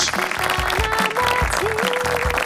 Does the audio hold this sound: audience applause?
yes